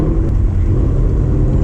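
Steady, loud low rumble of a 2019 Ford Mustang GT V8 with a Corsa Extreme exhaust, droning evenly while cruising canyon roads, with no voices over it.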